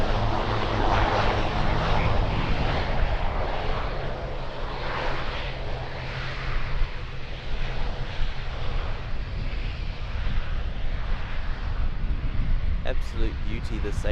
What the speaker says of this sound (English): Got the All Black ATR 72.